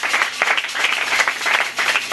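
A church congregation bursts into loud, steady applause and clapping that fills the room for a couple of seconds.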